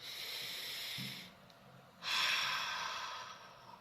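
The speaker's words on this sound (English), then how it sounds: "Breathing out through your mouth, then feel that air coming out through pursed lips." Two soft, airy exhalations through pursed lips, each a breathy rush lasting about a second or two, close and fairly quiet.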